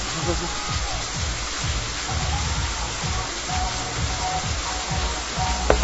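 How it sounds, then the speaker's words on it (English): Steady rain patters in a continuous hiss, with a low, choppy voice murmuring underneath throughout. "Hope it'll quit raining."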